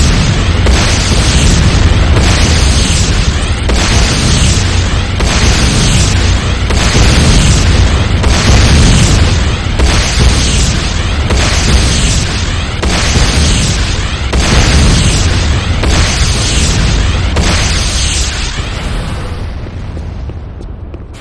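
Sustained roaring explosion of a GDI Advanced Guard Tower in the game Renegade, a loud, dense rumble that holds steady for about twenty seconds before fading out at the end.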